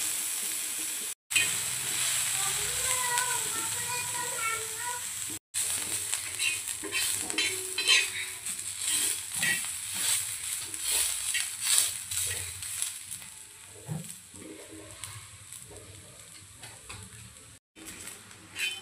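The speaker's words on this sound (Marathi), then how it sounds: "तेल टाकून छानपैकी आपण कांदा भाजून घेऊया" Onion frying in oil in a pan for an egg curry, a steady close sizzle with bursts of crackle and occasional scraping from stirring, running continuously with a few brief dropouts.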